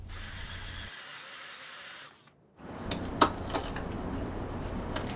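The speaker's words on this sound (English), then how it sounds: "I started by drilling a series of holes inside of the wood." Power drill bores holes into a wooden block for a custom rear bike light, a steady whirring run that cuts off briefly and then resumes with harsher chattering as the bit bites into the wood, close up.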